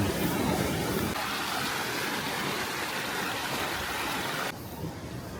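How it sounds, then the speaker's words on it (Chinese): The Baizhangji waterfall in Wenzhou, China's tallest, roars as a steady, dense wash of falling water heard from close beneath it, loud and continuous with no voices. "站在瀑布下面拍，水汽往脸上扑面而来。"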